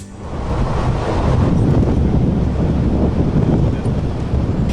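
Strong icy wind in Iceland buffets the microphone in a continuous loud roar, with broad gusting noise and no voices.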